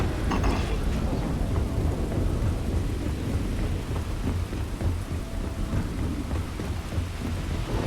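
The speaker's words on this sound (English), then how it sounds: "It's always raining here." Steady heavy rain pours throughout in a Starfield game city, with deep rumbles of thunder rolling underneath, loud and continuous with no voices.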